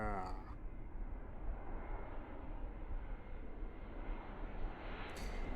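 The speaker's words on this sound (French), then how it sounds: "il y avait un avion qui passait au-dessus" An airplane passing overhead makes a steady, low engine drone that stays even throughout, muted and fairly faint, with brief brighter noises at the very start and end.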